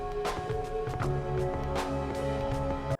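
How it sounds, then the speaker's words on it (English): Music from the Silent Hill 2 horror video game soundtrack plays alone, a warm layered piece with sustained tones and a rhythmic pattern of regular accents throughout. "It seems like such a massive risk to take for a horror game to include music that sounds like this."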